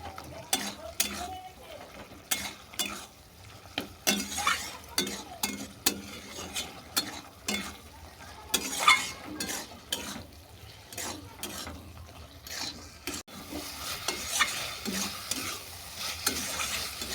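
A spoon stirs ridge gourd vegetarian curry in a pan until it dries, making repeated close scraping and clacking strokes over a soft, steady sizzle.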